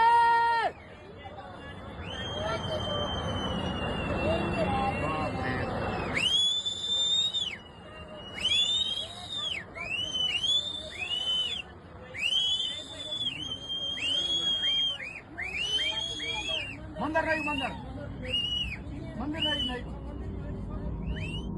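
Shrill warning whistles blown repeatedly in short bursts during a devastating cloudburst, piercing over rushing water and crowd babble with people talking and shouting nearby.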